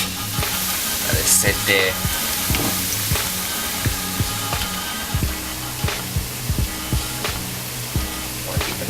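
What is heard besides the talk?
plantains frying in oil for mofongo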